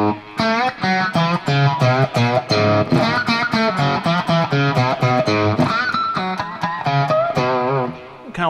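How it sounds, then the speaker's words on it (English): Distorted electric guitar riff played at lower volume without pinch harmonics: a steady run of rhythmic picked notes and chord stabs, bright and buzzy, alone with no talking. "what it sounds like without the pinch harmonics"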